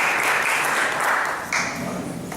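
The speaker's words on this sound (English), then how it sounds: "Let's give Jacqueline a big round of applause" Loud, close applause from an audience at a family reunion event, a thick continuous roar of clapping that briefly surges and then eases off, with no voices over it.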